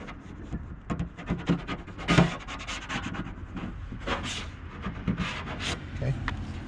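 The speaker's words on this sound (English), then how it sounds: "Rub it with your hand. You want to get the edges of the decal." A hand rubs a vinyl decal down onto a vehicle surface, producing close, irregular dry swishing and rubbing strokes in quick bursts, with no talk over them.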